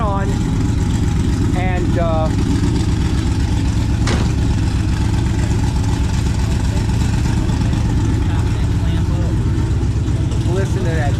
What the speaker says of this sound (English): So, do you see how it's idling lower?